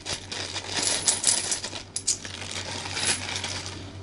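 £2 coins clink and rattle as they are handled and dropped, a steady run of bright metallic jingles with a few sharper clinks, close and fairly loud with no talking.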